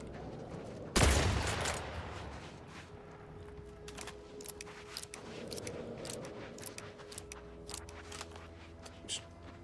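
A single loud gunshot burst in the video game The Outer Worlds 2, sharp and near, followed by fading echoes, a steady hum, scattered clicks and soft game ambience.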